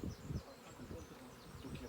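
Honeybees buzz around a newly installed swarm's hive in a village orchard, a steady close drone with faint wingbeat swells, quiet and continuous with no clear speech.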